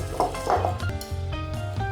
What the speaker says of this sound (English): Whisk to combine the dry ingredients.